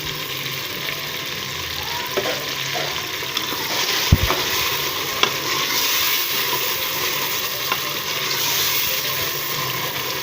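Garlic-ginger paste frying with mashed tomatoes in a pan for a dhaba-style daal mash with chicken, a loud continuous close sizzle with occasional stirring clinks, no talk.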